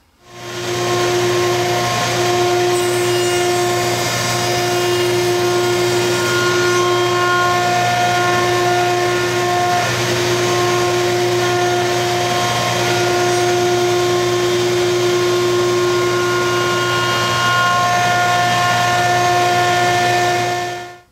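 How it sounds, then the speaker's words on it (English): A router on a router table runs with a steady, loud whine as it cuts dados into wooden pieces that already hold mortises. The drone stays constant for about twenty seconds, with no talk. "Let's get over to the router table and start cutting the dados in the pieces with our mortises."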